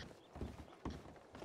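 Horse hooves clip-clop in a Red Dead Western video game, a few soft, uneven footfalls at low level.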